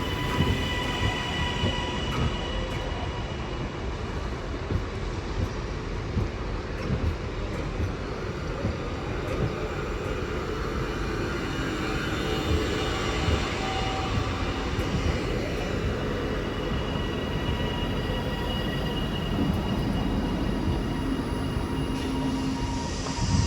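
Northern electric unit 331.103 from Leeds pulls into Doncaster station on the East Coast Main Line, a steady rumbling roll of wheels and motors that carries on at an even level throughout, with no talk.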